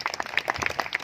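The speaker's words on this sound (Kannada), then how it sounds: "ಅವರಿಗೆ ಜೋರಾದ ಚಪ್ಪಾಳೆಯೊಂದಿಗೆ ನಾವು ಅಭಿನಂದಿಸೋಣ" A crowd at a First Holy Communion program in Bangalore applauds quietly and steadily with fast, dense clapping that stops abruptly at the end.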